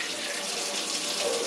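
Water pours steadily over a black powder revolver barrel being rinsed during cleaning, a continuous close hissing splash for a brief moment with no talk.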